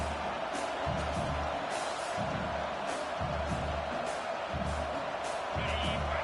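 Roaring stadium crowd in a college football video game, Alabama against Tennessee, a constant loud wash of noise swelling during a fourth-down play while a commentator talks over it.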